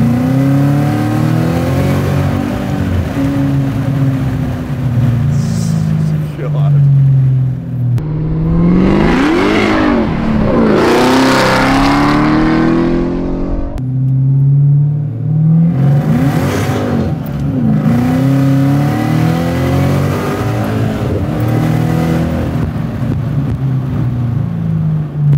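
A 670 hp supercharged LT4 V8 in a Bertone Volvo revs hard and loud, with repeated rising and falling throttle blips and sustained roaring pulls heard up close.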